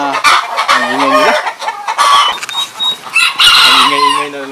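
Backyard chickens clucking loudly and close, with a rooster's drawn-out crowing at the start and again at the end, rapid overlapping calls between.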